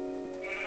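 A single short sheep bleat from the Minecraft video game on Xbox 360, clear and close, heard alone.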